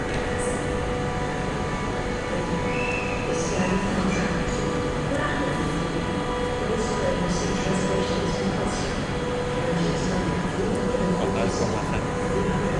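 Berlin-Warszawa Express train pulling into Warszawa Centralna station, a loud continuous rumble of rolling wheels and carriages echoing under the platform roof, with people talking nearby.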